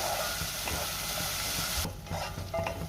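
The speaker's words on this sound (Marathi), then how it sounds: "कांद्याची पेस्ट मी चांगली गोल्डन ब्राऊन रंग येईपर्यंत परतून घेणार आहे" Onion paste frying and being stirred in a pan until golden brown, a steady close sizzle with intermittent scraping strokes of a spoon against the pan, continuous with no voices.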